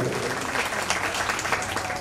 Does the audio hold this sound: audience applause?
yes